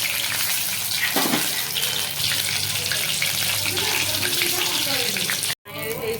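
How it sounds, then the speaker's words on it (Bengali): Lotte fish in a butter batter frying in hot oil in a pan gives a continuous loud sizzle and hiss, ending in a sudden brief cut of silence. "ভাজা হচ্ছে"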